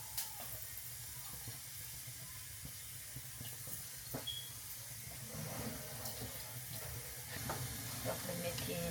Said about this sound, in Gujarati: મેથી ધીરે ધીરે બળવા લાગી ગઈ